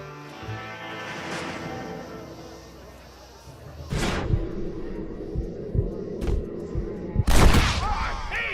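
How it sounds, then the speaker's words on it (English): Gunfire in the Red Dead Redemption video game, with a few loud, sharp shots breaking out over a rumbling game soundtrack, mixed in with other game effects. "Marvelous shot, dear boy."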